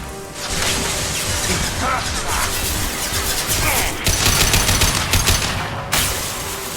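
Combat gunfire in the video game Mass Effect Legendary Edition: sustained loud bursts of automatic fire and sharp impacts layered with crashes, dense and continuous, with shouted voices mixed in.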